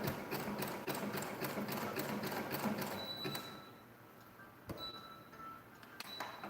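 A home sewing machine stitching a fabric surgical mask: a fast, even mechanical chatter of the needle for about three seconds, then quieter stops and short bursts of running, with no talking.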